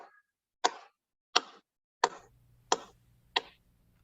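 Sparse reggaeton beat at about 80 to 100 BPM: five evenly spaced sharp percussive hits, close and fairly quiet, with a low sustained bass tone entering under the later hits.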